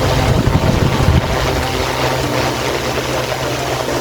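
A fan whirs steadily at high speed, a loud, even rush of air with a low motor hum underneath and no voices.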